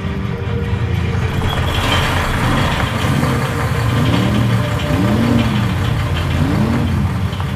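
A taxi's engine in the video game Scrap Mechanic, a loud, steady, close mid-pitched idle with a faint rising and falling whine on top, continuous and heard without talk.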